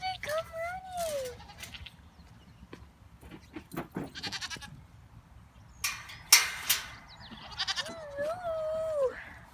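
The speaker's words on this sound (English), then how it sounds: "Two goats." Two goats on a farm let out several wavering bleats, some near and some farther off, over a faint outdoor background with scattered thumps and rustles.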